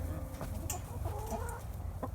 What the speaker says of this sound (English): Here are all our chickens now working in the garden